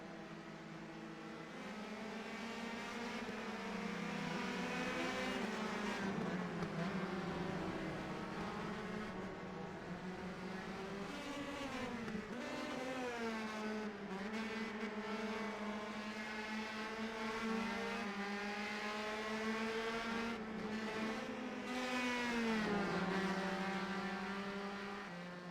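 Race cars circle Lime Rock Park in qualifying, their engines a steady, loud whine that rises and falls through gear changes as they pass, with no break for the whole stretch.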